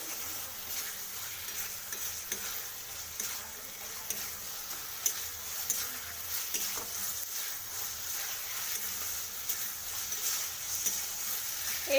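A spice paste with sattu (roasted gram flour) is stirred in a pan, giving a steady soft sizzle with scattered scraping ticks of the spatula throughout, close and continuous, with no voices.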